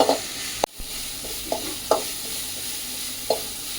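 Sugar melting in a pan for peanut candy is stirred now and then: a faint low sizzle with a few sharp spatula knocks and scrapes spaced apart, near and without speech.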